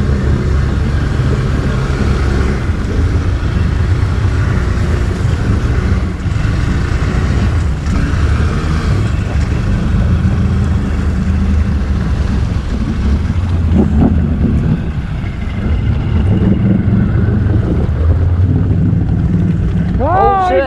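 ATV engine pushing through deep river water near a beaver channel, a loud continuous churn of engine and splashing with wind buffeting, strained revving near the end, and people shouting over it.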